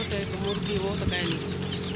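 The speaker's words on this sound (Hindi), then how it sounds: "मुर्गी और मुर्गा, एक मुर्गी तो ये रही।" Chickens cluck in a farmyard where a black hen walks with her chicks and a rooster, soft clucks scattered under steady wind and someone talking throughout.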